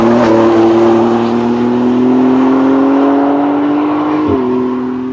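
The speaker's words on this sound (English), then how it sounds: "as you can see from this clip, the sound of the car is actually quite nice" A 2019 BMW X4M with the S58 engine drives with a loud, sustained engine drone that rises steadily in pitch, then briefly dips as if shifting before easing off.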